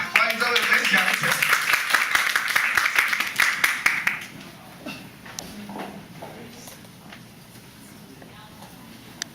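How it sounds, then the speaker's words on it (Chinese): An audience at an Apple user meetup claps to welcome a speaker, loud applause for about four seconds that then dies away to a few scattered claps, with a voice talking over it. "这个本人比较漂亮我们掌声鼓励一下来，欢迎这位分享者。"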